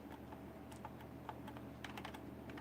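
Keys clack in quick irregular bursts on a cheap, poorly made computer keyboard attached to a 2.8 GHz Pentium 4 desktop, the close tapping carrying over a steady low hum, with no talking.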